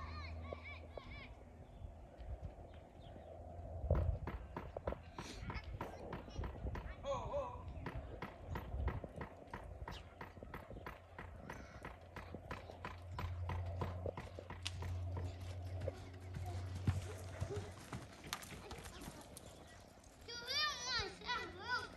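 Rapid clip-clop of horse hooves galloping on a park track, rhythmic and fairly close, with children's voices and chatter mixed in.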